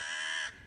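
A single harsh caw from a huge, sharp-eyed crow swooping down in a dark cave, loud and close for about half a second, then cutting off abruptly with nothing else heard.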